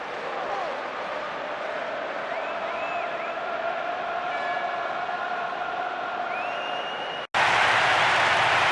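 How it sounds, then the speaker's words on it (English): A stadium crowd of fans roars steadily in the PES 6 football video game, a dense continuous wash of cheering and whistles that cuts off briefly, then returns as a louder hiss of noise. "No shortage of passion from the crowd"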